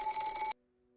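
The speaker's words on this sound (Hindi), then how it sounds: "हिना को फोन।" A telephone bell rings once in a short, loud burst, then cuts off abruptly and leaves a faint steady hum. No voices are heard.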